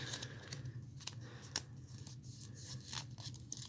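Paper folded by hand for an easy bunny-face craft, with soft crinkles and a few sharp creasing snaps scattered over a quiet, close background and no voices.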